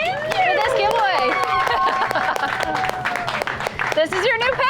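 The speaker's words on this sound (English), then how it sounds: "Another round of applause for this giveaway." Outdoor applause and cheering for a giveaway winner receiving a new Aventon Pace e-bike at a group ride in Ivins, Utah; scattered sharp claps run throughout under excited, overlapping voices and talk.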